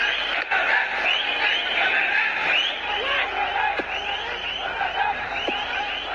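Bangladeshi supporters at a cricket match against Afghanistan fill the stadium with a steady roar of cheering, whistling and chanting, a dense, continuous crowd noise that stays loud throughout.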